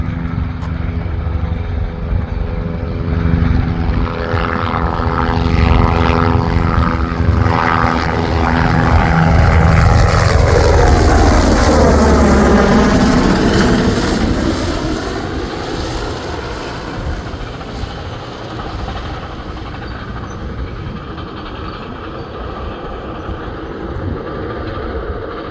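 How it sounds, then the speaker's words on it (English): A Border Patrol helicopter flying near the Texas border: a loud, continuous rotor and engine roar that swells as it passes close overhead, then slowly recedes. "Helicopters of Border Patrol and National Guard fly around the border all the time down there"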